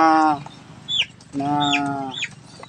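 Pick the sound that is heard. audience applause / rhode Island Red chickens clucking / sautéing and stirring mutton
rhode Island Red chickens clucking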